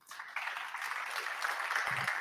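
Audience applause following a testimony at a French breakfast conference on retail media, a broad steady wash of clapping from a room full of people that starts abruptly and holds at an even level.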